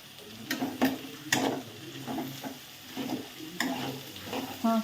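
Paneer fried rice with boiled corn being stirred in a hot pan, a spatula scraping and clinking against the metal in irregular strokes over a steady low sizzle of oil, close and moderately loud.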